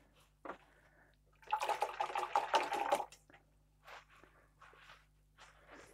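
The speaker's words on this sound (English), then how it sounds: "Let's just wash the brush out here." A watercolor paintbrush is swished and rinsed in a water pot, giving a burst of splashy, sloshing water for about a second and a half, followed by softer intermittent dabs and clinks at close range, with no talking.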